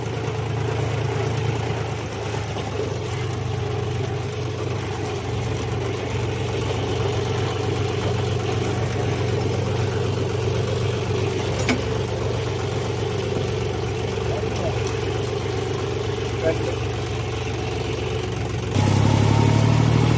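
A steady, low tractor diesel engine rumbles continuously at close range, idling evenly, then grows slightly louder near the end.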